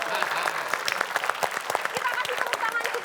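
A studio audience applauds, a lively scatter of claps with sharp individual hits, moderately loud, with voices talking over it.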